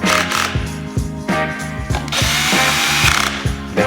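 A power drill whirs in repeated short bursts while a Citroen/Peugeot/Ford 1.6 HDi diesel engine's cylinder head and valve cover bolts are removed, close and loud, with rhythmic ratcheting pulses and pauses between runs.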